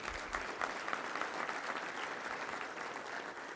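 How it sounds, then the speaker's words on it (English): Audience applause welcoming a guest at a college and high school football gathering in Arkansas, a steady dense wash of clapping that holds at even loudness throughout. "Give him a round of applause."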